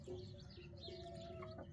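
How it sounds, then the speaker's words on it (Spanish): A hen clucks softly while pecking for corn in a fenced enclosure, a short close call with a few faint chirps behind it. "Esa gallina como busca el maíz."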